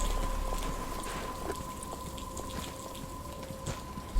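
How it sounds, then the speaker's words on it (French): Rain falling in a Batman video game makes a steady, close patter of drops with a low hum beneath it, constant for several seconds before a brief louder thump at the end. "Il commence à pleuvoir."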